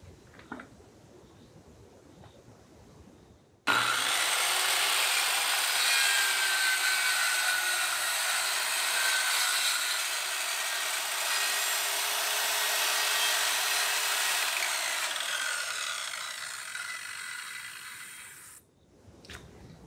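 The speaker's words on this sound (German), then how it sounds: "Und jetzt muss ich das Ganze eigentlich nur noch oben mit 4 cm Abstand von der anderen Seite durchschneiden." A power saw cuts through a wooden board for a home-built window or door in Costa Rica, one loud sustained whine lasting about fifteen seconds between quieter handling sounds.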